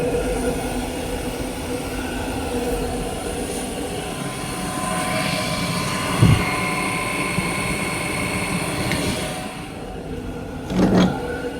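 A waste oil burner roars steadily with its air turned up, a dense, continuous rushing drone with a few brief knocks and clanks, heard up close with no talking.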